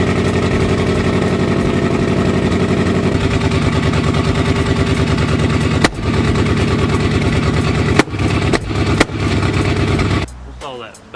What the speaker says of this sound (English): What's all that backfire? Backfire.